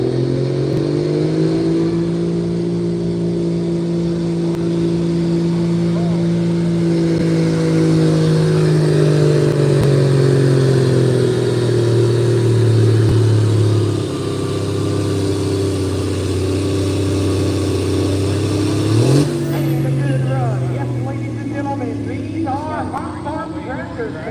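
Tractor pull engines roar at a Fox Township pulling event, a loud sustained revving climb that holds and rises for about twenty seconds before cutting off sharply, with crowd noise and an announcer talking over it.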